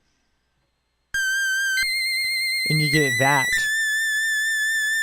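A sudden high, piercing FM8 synthesized squeal with bright stacked overtones that jumps in pitch, with a brief spoken phrase partway through.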